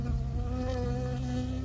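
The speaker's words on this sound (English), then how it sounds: "I got stung by a bee." Close, steady insect buzzing of a bee in the video game Firewatch, a continuous droning hum that holds for the whole short stretch over low background rumble.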